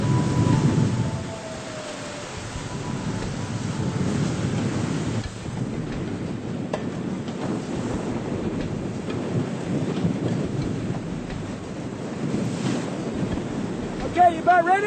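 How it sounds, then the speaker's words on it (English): Rough open-ocean seas at Cortez Bank with wind gusting to 25 knots, a continuous loud roar of wind and churning water with surging waves and gusts throughout, no voices. "the seas begin to pick up, and the wind is gusting to 25 knots"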